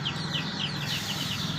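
Chickens cluck and murmur softly in a steady, continuous farmyard chatter, with no voices present.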